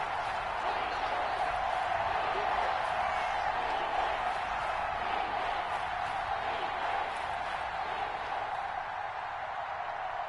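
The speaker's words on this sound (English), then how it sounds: "the crowd getting into it as we come up on a big third down" A football stadium crowd roars in a steady, dense wall of noise ahead of a big third down, sustained and loud throughout with no single voice standing out.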